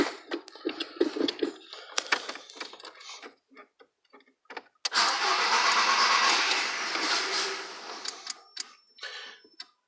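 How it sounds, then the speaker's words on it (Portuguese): A Volkswagen Golf being revived at home cranks and catches, breaking into a steady, loud idle that runs for several seconds, following a stretch of clicks and tinkering noises. "E dá a partida no carro."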